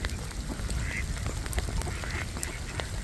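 Ducks quacking in a steady outdoor chorus in a park in Dresden in winter, several calls overlapping at moderate distance over a constant low rumble.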